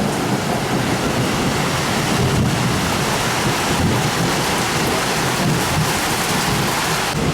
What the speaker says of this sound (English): There's a crazy lightning storm at the moment.